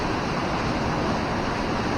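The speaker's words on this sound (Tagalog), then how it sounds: "Yan, naman sa pinaka-falls." Minnehaha Falls, a waterfall whose rushing water makes a steady, broad roar, close and even throughout with no voices over it.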